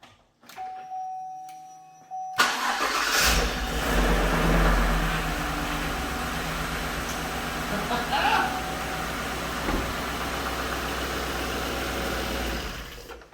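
A Chevrolet Silverado truck, freshly rebuilt, starts after a few quiet clicks and settles into a loud, steady idle with a slightly uneven rumble heard close by.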